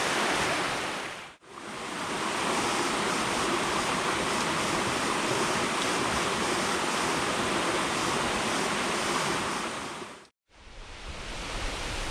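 A waterfall on Vancouver Island roars as a steady, dense broadband rush, close and loud, holding unbroken for about nine seconds between two brief cutouts, with no voices.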